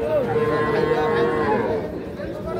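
Young heifer and bull calves low at a busy livestock market, with one drawn-out, wavering moo up close over a steady murmur of crowd chatter and people talking.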